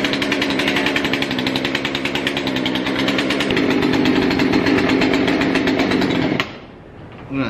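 A two-stroke chainsaw engine runs loud and close at a steady high rev, its pitch shifting partway through, then cuts off abruptly near the end, leaving a quiet room.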